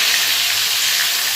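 Bhola fish frying in hot oil, a dense, steady sizzle that runs loud and close throughout without any voices.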